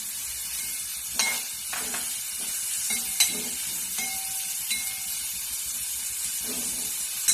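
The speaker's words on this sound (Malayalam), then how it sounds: "ചൂടായി കഴിയുമ്പോൾ നമുക്ക് ഈ സവാള ഉള്ളി അതിനകത്തേക്ക് ചേർക്കാം. ഒരു തവി കൊണ്ട് പയ്യെ ഇളക്കി കൊടുക്കുക." Sliced onions sizzle in hot coconut oil, a steady frying hiss broken by occasional clinks and scrapes as a ladle stirs them slowly.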